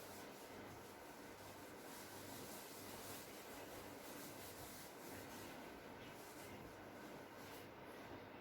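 A board is rubbed clean of writing with an eraser, giving a faint, steady scrubbing hiss that runs the whole time with no talking.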